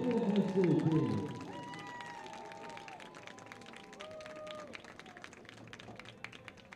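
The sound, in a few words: applause at a football game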